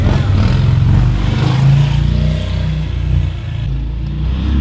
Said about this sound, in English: He just went around the corner with his Harley